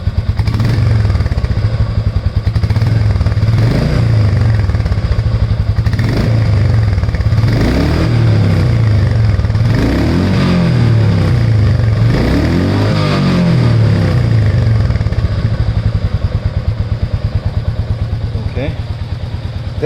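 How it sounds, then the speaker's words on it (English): A Royal Enfield Meteor 350 motorcycle idles loudly with a steady thump, rising in several short revs that fall back to idle, heard up close with a voice speaking over it. "let's rev it up a little bit"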